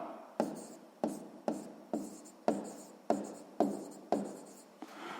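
Pen strokes on paper while working a written exercise, about eight short, soft scratching strokes in a steady rhythm, close and quiet, with no talk.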